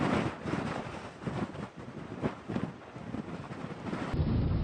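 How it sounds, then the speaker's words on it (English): Strong wind in a dust storm roars steadily and loudly against the microphone, with buffeting gusts and rumbling low-end surges throughout, alone with no talk. "Wind speeds have been increasing."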